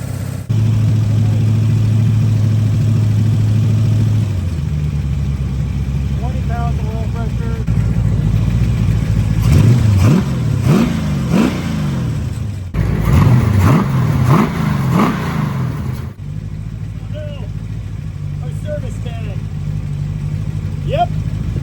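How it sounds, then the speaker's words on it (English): A rebuilt 426 Hemi engine idles with a deep rumble, then revs in several rising bursts, loud and close, settling back to a rough idle between them, with a few words spoken over it. "Good news, Hemi runs. Sounds pretty great."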